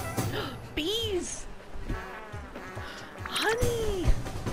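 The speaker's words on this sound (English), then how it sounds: "Bees!" Bees buzz in the Spiritfarer video game, a thin insect drone running through the clip beneath louder voices talking and exclaiming.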